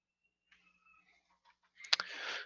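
Graphing calculator buttons are pressed in a few faint, separate clicks, followed by a brief louder clack and a burst of rustling handling noise at the end.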